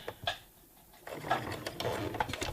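A sewing machine stitching along a fabric edge, starting with a few soft taps, then running in a quick rhythmic whir of needle strokes, fairly close and moderately quiet.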